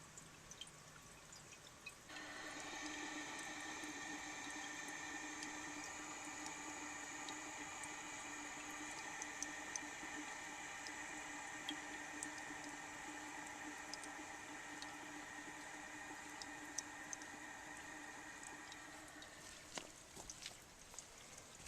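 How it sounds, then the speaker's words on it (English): A 1936 Standard Modernus toilet tank refills with water, a steady hissing rush that begins abruptly after a couple of seconds and runs evenly at close range, then cuts off near the end as the tank fills. "Okay, the tank is full"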